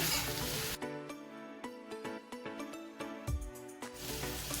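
Chicken liver sautés in oil in a pan, a steady close sizzle broken by a run of sharp clicks and taps from stirring, with the hiss swelling loudly again at the end.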